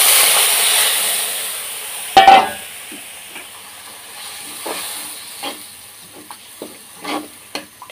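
Onions fried until reddish with a mixed spice paste in a pan give a steady hissing sizzle, broken by a louder burst and several scattered scrapes and knocks of stirring.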